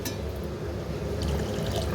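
Water pours into a pot of ginger lemon rasam with dal, a continuous close splashing trickle that runs steadily, with no voices.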